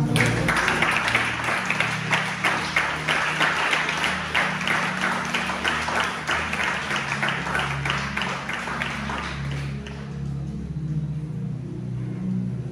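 A church congregation applauding together, a dense, steady wash of rhythmic clapping that goes on for about ten seconds and then fades, leaving a low rumble.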